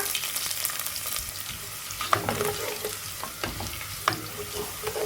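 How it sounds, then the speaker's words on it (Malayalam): Mustard seeds crackle and pop in hot oil, then chopped garlic sizzles in the pan, with scattered sharp pops over a steady frying hiss and a few stirring sounds, close and alone. "ഒരു ടീസ്പൂണ് കടുക് ഇട്ട് കൊടുക്കുക കടുക് പൊട്ടി വരുമ്പോൾ അതിലേക്ക് വെളുത്തുള്ളി അരിഞ്ഞത് ഇട്ട് കൊടുക്കുക"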